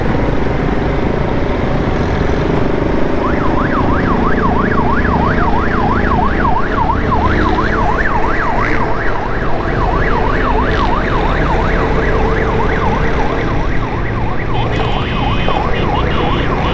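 A loud wailing ambulance siren fitted on a motorbike rapidly sweeps up and down over steady traffic rumble on Jahangir Road, Karachi, continuing for most of the stretch.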